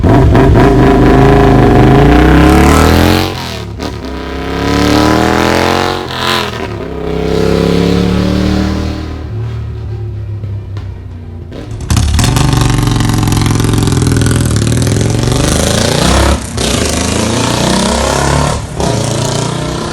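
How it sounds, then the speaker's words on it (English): Cafe racer motorcycles fitted with P-Shooter style exhausts, among them a Royal Enfield, blip and rev loudly and close up in repeated bursts, with several distinct exhaust notes and no talking. "The exhaust sound on each one of these motorcycles is obviously different."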